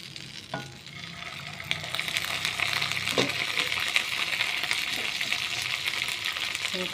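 Pav bhaji vegetables stirred and mixed in a hot pan, a continuous bright sizzle with a few knocks of the spoon against the pan, close and steady throughout.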